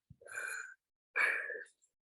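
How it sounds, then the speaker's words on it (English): Two drawn-out yawns, one after the other, close and breathy, during a calming relaxation exercise, with a short pause between them. "Yawning."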